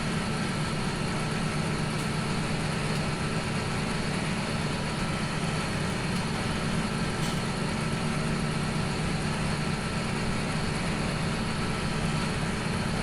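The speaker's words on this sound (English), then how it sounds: "this is actually a very noisy tractor." A very noisy tractor engine in Farming Simulator 17 drones steadily at a constant loud level with a heavy low rumble, running unbroken and alone for the full stretch without variation.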